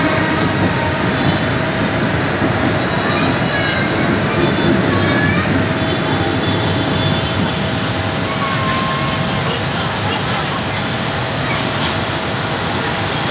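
KRL commuter train pulling into Manggarai station, a loud continuous rumble and hiss of the train that fills the whole stretch.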